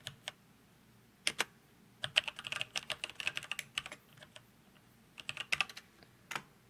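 Computer keyboard typing in a quiet room while a control curve is named in Maya rigging software, with bursts of rapid, close clicking keystrokes separated by short pauses and no talking.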